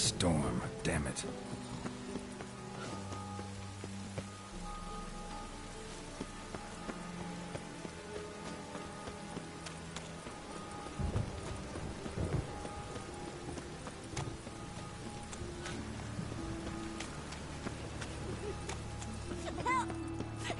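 Steady rain hiss from a thunderstorm in The Witcher 3, running continuously under game music, hoofbeats and character voices throughout.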